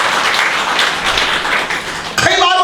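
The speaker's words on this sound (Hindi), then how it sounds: "आइए ताली बजाकर हम परमेश्वर को धन्यवाद" A congregation at a church service in Nagpur, India claps hands together in thanks to God, a dense, steady patter of many hands close by that stops abruptly, followed by a voice speaking.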